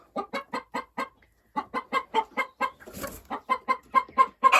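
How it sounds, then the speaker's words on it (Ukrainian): Hens cluck nearby in a village yard in a quick, steady series of short calls, pausing briefly before the clucking resumes and grows a little louder. "Тут може бути півник, бо це курочки."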